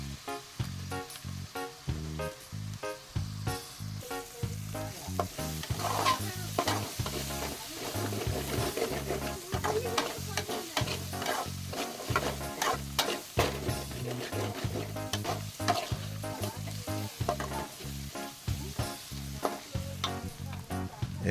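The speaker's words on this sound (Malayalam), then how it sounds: "ശേഷം നന്നായിട്ട് ഇളക്കി കൊടുക്കണം." Onion, ginger and garlic fry in a pan for a paneer masala while being stirred steadily, a loud continuous sizzle broken by rhythmic scraping strokes of the spoon, with no talking.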